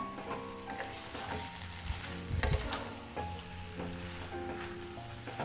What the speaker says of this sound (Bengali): গুড়টা আমার গলতে শুরু করে দিয়েছে আমি এর মধ্যে কোনো জলের ব্যবহার করব না